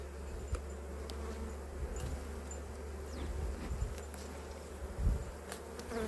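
Honeybees drone in a steady, dense hum at an open hive during a first spring inspection, with a few louder buzzes as individual bees pass close by.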